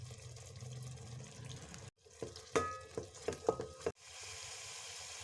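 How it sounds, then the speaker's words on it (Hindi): Masala for an aloo gajar sabzi frying in a pan: a low sizzle, then a brief silence, then several sharp bursts of stirring and spattering before another short gap and a renewed soft, steady sizzle. Quiet and close, with no talking. "मसाला हमारा फ्राई हो गया।"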